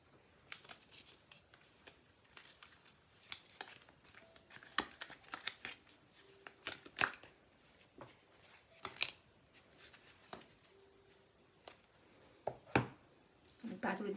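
Tarot and Lenormand cards being shuffled, a run of soft riffling swishes and sharp card snaps spread irregularly across the span, close and fairly quiet, with no talk.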